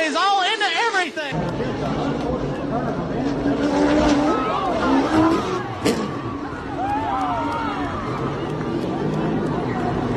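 Race cars run three wide coming off turn two, with a loud engine roar, whooshing passes and brief tire squeals. Crowd chatter and voices can be heard underneath.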